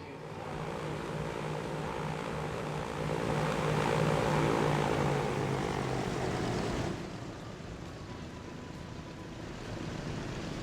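Propeller airplanes drone steadily in the Transport Fever 2 game, a broad engine hum with a rising, swelling pass that cuts down abruptly to a quieter background near the end.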